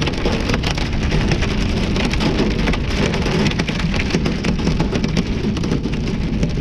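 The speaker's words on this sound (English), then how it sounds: "Yeah, we got hail going on." Heavy hail and rain pelt a moving car on a drive toward Omaha, making a dense, continuous loud rattle and hiss on the vehicle's surfaces with no one speaking.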